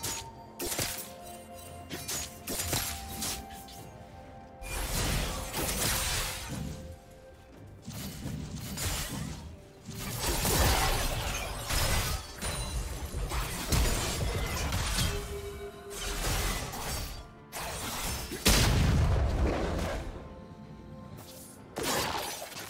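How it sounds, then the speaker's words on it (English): A turret being destroyed in League of Legends, with loud crashing, shattering impacts and whooshes layered over dense, continuous game effects, several heavy bursts across a busy fight. "Red team's turret has been destroyed."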